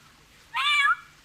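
A voice imitates an aggressive cat, giving a single strained, rising-then-falling meow of under half a second against a quiet background.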